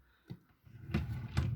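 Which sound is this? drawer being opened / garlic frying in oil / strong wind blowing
drawer being opened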